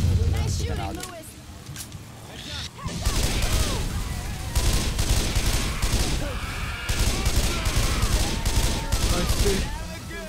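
Dense bursts of gunfire from the zombie shooter Left 4 Dead 2, rapid volleys rattling almost continuously, loud and close, with a voice talking over the shooting.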